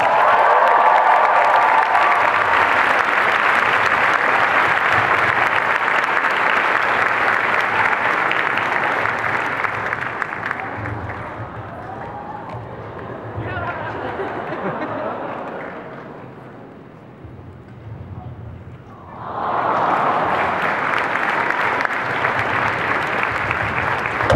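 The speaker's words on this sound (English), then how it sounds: "Let's cheer her on as she comes out" Loud audience applause and cheering at a Walking Dead Q&A panel with Norman Reedus and Jon Bernthal, a dense crowd roar that dips midway, then swells back strongly.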